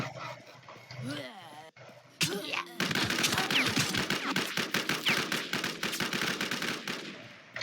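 Rapid gunfire bursts in the survival video game Infestation, loud close repeated shots after a few scattered sounds, with a voice talking early on.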